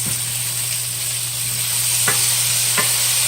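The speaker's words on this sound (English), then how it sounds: "We're just going to keep stirring all the vegetables" Ratatouille vegetables and tomatoes stirred in a pan over medium heat, a steady sizzle with a constant hum beneath and two sharp scrapes of the spoon against the pan.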